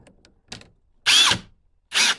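Cordless drill driving a screw at torque setting 20 during a Vibe Shearwater 125 kayak steering handle installation: two loud, close motor bursts of about half a second each, with faint ticking before them.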